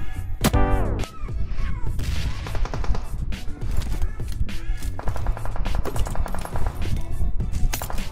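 Machine gun fire in a video game, with several loud, rapid bursts of automatic shots, echoing impacts between them and a dense stretch of sustained firing near the end.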